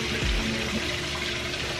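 Tap water running and splashing as fruit is rinsed in a bowl with water and a little white vinegar, a steady close stream with no talk.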